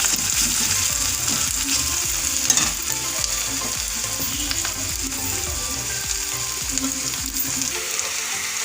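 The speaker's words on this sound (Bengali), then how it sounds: "এটা লাল লাল করে একটু ভেজে নেব।" Chopped onion fries in a pan with a dense, loud, continuous sizzle and crackle, and a utensil scrapes rhythmically and repeatedly through it, close up with no voices.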